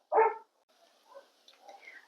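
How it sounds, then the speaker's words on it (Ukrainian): A dog gives one short, sharp bark near a vegetable garden, followed by faint, distant yips and whimpers in a quiet outdoor setting. "щось мої собаки розгавкалися"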